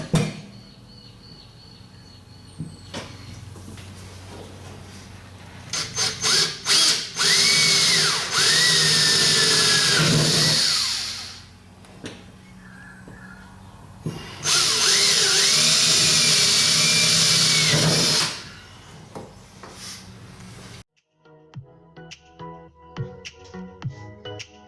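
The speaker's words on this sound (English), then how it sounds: "I'll just drill a couple of 1/8 holes to start with" An electric drill boring 1/8-inch holes in the body of an EH Holden car in a home garage, two long high whining bursts with short revving starts in between and brief clatter after.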